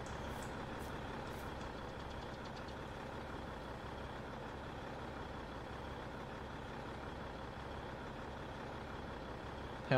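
A truck engine idles and rumbles steadily in Farming Simulator 22, with a few faint, quick beeps near the start, fairly quiet and constant, and no voices.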